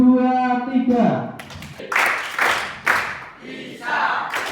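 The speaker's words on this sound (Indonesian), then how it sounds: "Ayo, siap-siap untuk tepuk semangat." A classroom of students does a rhythmic spirit clap, with bursts of group clapping and chanted voices alternating in a patterned beat after a drawn-out sung cue.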